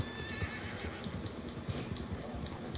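A horse whinnies over a steady rumble with faint clip-clop of hooves, sounding like game audio rather than a live animal.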